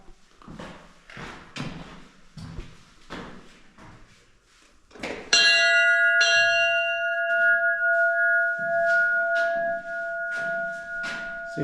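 A small bell rings at the chapel of Saint Nicholas on the Kamenjak peninsula in southern Istria, its clear sustained ringing tone starting partway through and lingering loudly after earlier footsteps and rustling outdoors.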